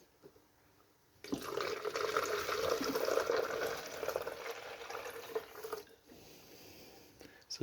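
Water pours steadily into a brine shrimp hatchery for several seconds, a splashing, trickling stream starting abruptly after a quiet moment and tapering off near the end, close and fairly soft.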